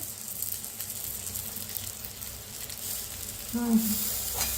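Green chilies and garlic frying in oil are stirred together in a pan, a soft steady sizzle running throughout, with a brief louder scrape of stirring near the end.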